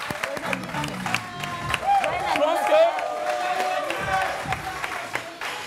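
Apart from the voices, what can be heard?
audience applause for William's birthday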